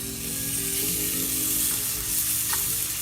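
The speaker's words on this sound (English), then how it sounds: "Now we just let that sear" A seasoned venison backstrap sears in a smoking-hot pan, giving a steady, loud, close sizzle and crackle that holds without a break and with no voices over it.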